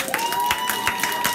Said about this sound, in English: So let's clap it up for Everlasting Life again.